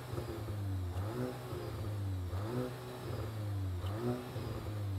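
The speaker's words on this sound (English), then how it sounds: "No, I'll rev it." A 2021 VW Golf GTI MK8 with a sports exhaust, held back by European noise rules, revs up and falls back in about three rhythmic cycles, running into the soft limiter and heard clearly and alone.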